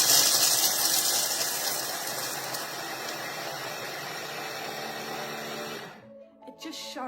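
A kitchen machine runs loud and steady at high speed while grinding almonds into almond meal, its roar easing slightly before cutting off abruptly near the end, followed by faint clinks.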